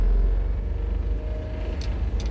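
A small British-built bubblecar pulls away in first gear with its windows open, giving a low, steady engine rumble and a faint rattle from inside the cabin.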